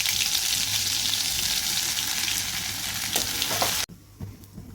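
Cumin, mustard seeds and garlic-ginger paste sizzle in hot oil, a loud continuous hiss with stirring scrapes, cutting sharply quieter near the end as the heat or pan shifts.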